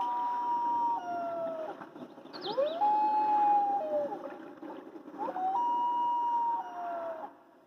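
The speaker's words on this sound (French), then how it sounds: "Il y a les huards qui chantent sur les lacs." Long, wailing common loon calls rise and hold over a lake's ambient hush, two drawn-out mournful cries with a tremolo flourish between them, no voices.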